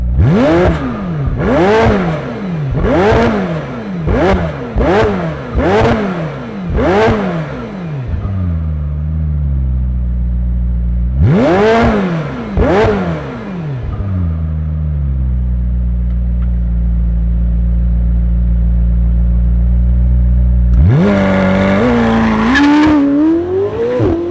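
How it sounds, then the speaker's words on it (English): A 2024 McLaren 750S Spider engine revving hard in a series of sharp rising blips, settling into a deep idle between bursts, then revving again near the end. "Let's fire it up and hear the roar of this McLaren."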